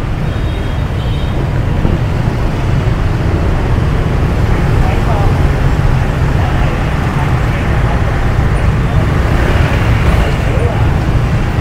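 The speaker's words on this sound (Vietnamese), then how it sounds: "Dòng xe cộ cũng đang rất đông ở tại con đường này." Heavy night traffic of motorbikes and cars fills a busy street in central Saigon at Christmas time, a dense, continuous roar close by without letup.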